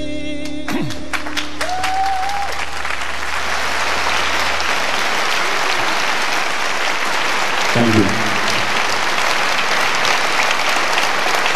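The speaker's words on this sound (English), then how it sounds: "It's your applause." Audience applause at a live TV concert: a dense, loud, sustained roar of clapping and crowd noise fills the room after a fading song ends, with voices mixed in.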